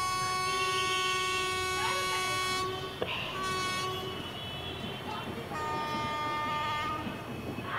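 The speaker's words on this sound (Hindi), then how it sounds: "यहाँ से ट्रेन भी अब ये डिपार्ट कर रही है" A train departs in the Indian Train Crossing 3D game, sounding a long multi-tone horn in several sustained blasts over a low rolling rumble, with faint voices in the background.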